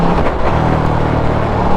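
A KTM motorcycle engine idles and revs close by, a dense rumbling throb with a low, uneven pulse and no talk over it.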